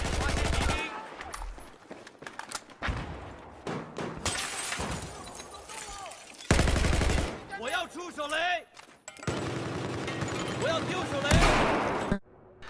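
Full-auto bursts from an ACE 23 assault rifle in Battlefield 4, rapid loud rattling volleys broken by short pauses and shattering glass, with a voice talking over parts of the action.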